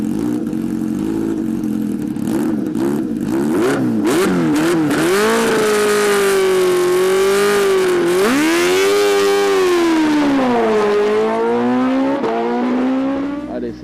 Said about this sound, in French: On dégage un son très rauque et caverneux digne d'une moto GP